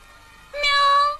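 A cat gives a single drawn-out meow, rising and then holding steady for under a second, fairly loud and close after a quiet moment.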